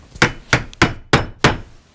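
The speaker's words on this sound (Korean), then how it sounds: "그것이 끝나자 괴짝에 못을 치기 시작했다. 빈집에 망치 소리가 크게 울렸다." Five sharp hammer strikes nailing a wooden crate in an empty house, evenly spaced about a third of a second apart, loud and close with a short ringing decay after each blow and nothing else heard.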